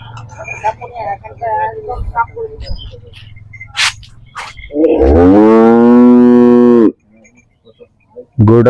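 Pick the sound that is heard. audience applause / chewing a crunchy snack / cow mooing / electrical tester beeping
cow mooing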